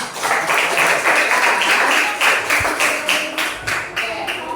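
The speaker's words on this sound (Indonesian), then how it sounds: "Tepuk tangan untuk kita semua" A classroom full of people clapping together, dense and loud, with the applause sustained for several seconds and swelling in uneven bursts.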